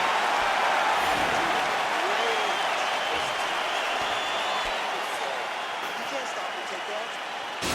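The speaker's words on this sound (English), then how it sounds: "the crowd voicing its appreciation after that round" Steady applause and cheering from a large arena crowd in the UFC 4 fighting video game, a continuous broad wash of clapping that stays loud throughout and eases slightly toward the end.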